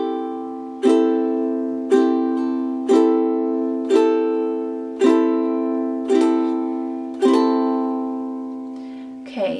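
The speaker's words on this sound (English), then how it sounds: "So this is what it's going to sound like if you just do down strums." Solo ukulele plays a slow series of single down strums, eight evenly spaced chords about a second apart, each ringing out and fading before the next, close and clear with no talking.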